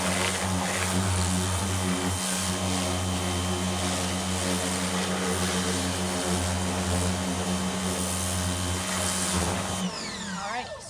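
A pressure washer fitted with a turbo nozzle rinses a car wheel, a loud, steady droning spray that runs without a break for about ten seconds before cutting off near the end.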